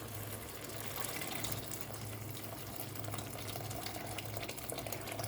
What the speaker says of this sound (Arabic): هنزل عليها بميه مغليه.